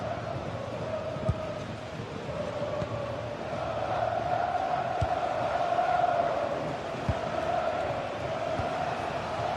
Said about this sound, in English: listen to that. You can sense how annoyed the crowd are.